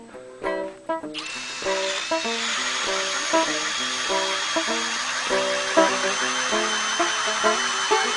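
Motorized ice auger boring a hole for ice fishing, its whining motor rising and falling steadily with rhythmic pulses, close and loud throughout with no talk.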